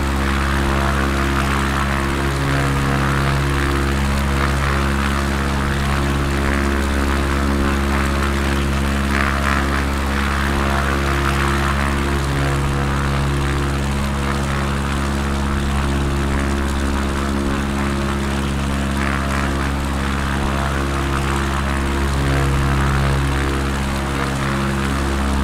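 An ERCO 415 propeller plane, as simulated in Microsoft Flight Simulator, drones steadily and loudly throughout, its engine tone constant with no breaks and no talking.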